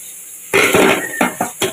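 Battered bitter gourd coated in rice flour, gram flour, chili powder, salt and turmeric drops into hot oil in a sudden sizzling burst, followed by a few sharp clinks and spatters, fairly loud and close.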